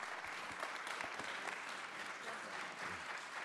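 Steady audience applause fills a congressional hearing room, a dense, even wash of clapping that holds at moderate volume throughout without pause.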